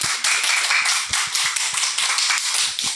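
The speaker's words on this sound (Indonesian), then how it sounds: "Tepuk tangan." Dense, steady applause fills the room for a guest, the Gowa police chief, Adjunct Senior Commissioner Ronald T. Simajuntak, on a talk show stage, with crisp close claps and occasional heavier thumps throughout.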